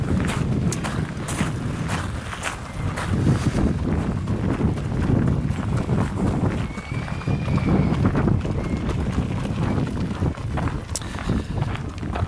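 Pony hooves clip-clop in a steady trotting rhythm as ponies move out onto the Bergsåker harness racing track at a pony trotting race, with crowd murmur and wind in the background.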